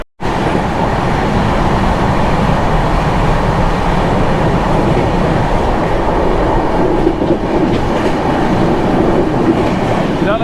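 Chennai Express passenger train running near Mumbai, heard from inside the coach: a steady, loud rumble and rattle of wheels and carriage that holds constant throughout, with no voices.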